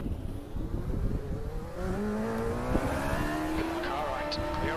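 A Radical SR3 race car at Lime Rock Park in the Assetto Corsa racing game drones steadily alongside, its engine pitch climbing as it accelerates, with tyre noise and a rough background hum under occasional talk.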